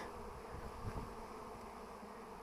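A honeybee swarm flies out of an old hive, carrying honey and pollen, producing a steady, dense buzzing drone that stays even and close throughout.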